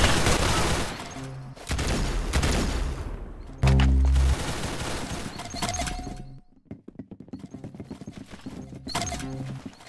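Gunfire in a shooting video game, with loud bursts of rapid shots early on, then a heavy blast, followed by sparser clattering hits, all mixed with hoofbeats and a horse's whinny.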